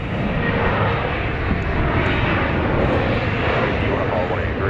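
An airplane at Dallas Love Field sends a loud, continuous broadband engine roar past the runway, with voices talking over it.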